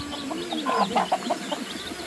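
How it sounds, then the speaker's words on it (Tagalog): Several chickens cluck nearby in short, uneven bursts over a quiet outdoor background, with no talking. "May manok sila dito."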